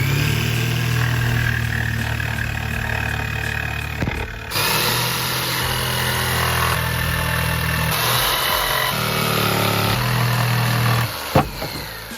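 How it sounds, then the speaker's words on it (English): Jigsaw cutting a sink opening in a van cabinet, a loud, close, steady buzzing motor whine with a rapid reciprocating chatter that shifts in pitch as the blade works through the wood, with a short pause midway. "It has a little drain. Just gonna jigsaw it in."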